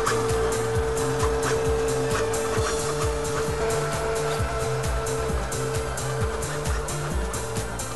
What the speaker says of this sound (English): Engage the 2 motors.